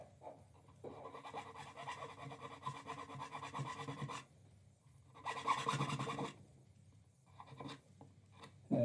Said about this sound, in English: a little bit of sanding after we carve the top